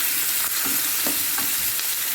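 Onion, green chili and sesame frying in a pan, a steady close sizzle broken by several soft scraping stirs at irregular intervals, with no voices.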